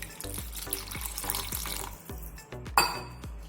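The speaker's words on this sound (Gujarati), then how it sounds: "હવે તેને પાતળી કરવા માટે આપણે અંદર 4 થી 5 ચમચી જેટલું પાણી રેડીશું." Spoonfuls of water are poured into onion chutney in a grinder jar, giving a series of soft splashes and drips at a fairly regular pace, close and quiet.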